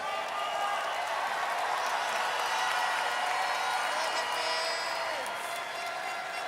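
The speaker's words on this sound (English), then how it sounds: "can we give a big round of applause to all the delegates for being a force for good?" Sustained applause from a large audience for the delegates at the 72nd Miss Universe preliminary competition, dense clapping and crowd noise rolling steadily and fairly loud throughout.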